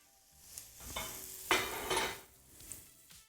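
Finely diced onions dropped into a hot pan, with soft scrapes and clinks followed by brief bursts of sizzling and stirring, fairly quiet and near, without speech.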